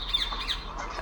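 A bird in the stealth video game République lets out a few short, raspy squawks, fairly close and clear over a quiet background.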